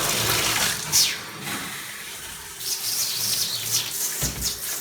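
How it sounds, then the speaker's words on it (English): Water runs and splashes as a bathtub is rinsed down in a master bathroom, with gushing bursts and a few sharper spray swishes that rise and fall over several seconds. "I rinse it all down."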